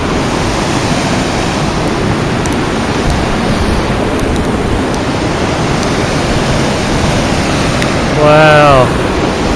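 Roar of Yosemite Falls at the top of the waterfall during a blizzard, a loud continuous broadband rush of water and wind; a brief voice rises near the end.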